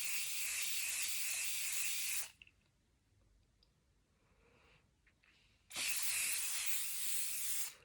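Hairspray aerosol hissing onto hair in two long, steady bursts of about two seconds each, close and loud, separated by a quiet pause.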